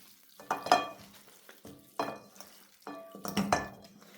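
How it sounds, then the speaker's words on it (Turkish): Marinated lamb chops tossed and stirred by hand in a bowl, making three wet, squelching rustles with light clinks against the dish, fairly quiet and close, with no talk. "Şimdi böyle güzelcene hepsine gelecek şekilde bu şekilde şöyle karıştıracağız"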